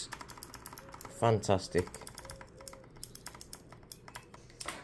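Crisp keystrokes on an AJAZZ AK992 mechanical custom keyboard connected over Bluetooth tap out in a steady, close stream, with a brief spoken word partway through.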